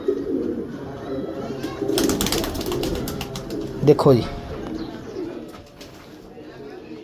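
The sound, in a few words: pigeons cooing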